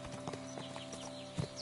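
Horse hooves clip-clop at a steady walking rhythm in the video game Kingdom Come: Deliverance II, close and moderately loud over a faint ambient bed.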